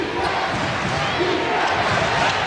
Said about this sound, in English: all of a sudden the fans start getting up, and they're standing a little bit and cheering